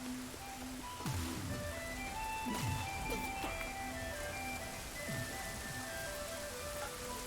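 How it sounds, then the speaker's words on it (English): Steady rain falls in the video game Grow: Song of the Evertree as a constant soft hiss, with chiming musical tones and a few chirpy sweeps over it and no talking. "Okay, if you hate the rain, get out of the rain."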